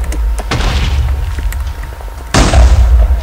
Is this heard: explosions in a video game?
yes